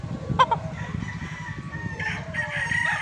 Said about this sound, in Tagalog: Mabilis itong gumalaw, matalinong manok.